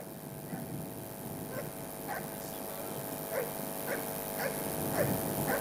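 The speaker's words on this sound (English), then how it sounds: "Military working dogs, Pookie, searching the boxes" A military working dog searches boxes for explosives at an army day celebration in Nigeria, giving a series of faint yips and whimpers spaced through a steady crowd and outdoor background.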